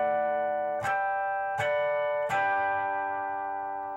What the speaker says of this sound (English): What harmonics are is they're basically little overtones on the guitar that sound really cool.